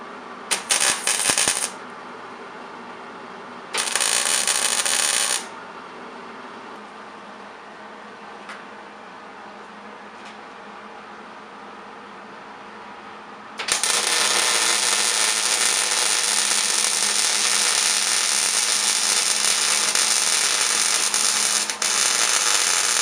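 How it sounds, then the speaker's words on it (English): A steel base for a weld cart is being welded, heard as bursts of harsh, crackling arc hiss: two short runs, a quiet stretch, then one long continuous bead that lasts to the end. "What we're going to do is we're going to weld this base together."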